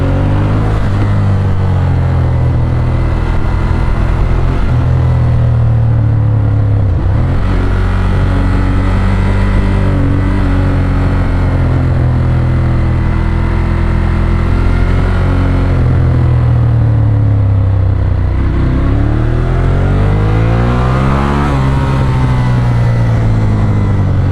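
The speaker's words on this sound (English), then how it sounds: "Does a few crackles and bangs. I don't know if you can hear them on the exhaust" A 2016 Ducati Monster 1200 S engine drones loudly and continuously while riding, its pitch rising and falling through gear changes; individual exhaust crackles are not clearly distinct.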